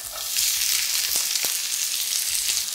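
Onions sautéing in a pan over the fire, a bright steady sizzle close by with a few low knocks of stirring, no voices.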